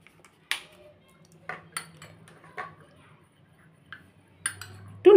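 A spoon stirring a rose water and saffron face pack mixture in a small bowl, giving sparse light clinks and scrapes with quiet gaps between them, ending in a louder knock.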